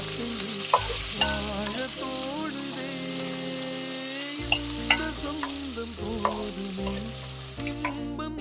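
Small onions sizzle and fry steadily in a pan until soft while a spoon stirs, with a few sharp scraping clicks and a faint musical background underneath.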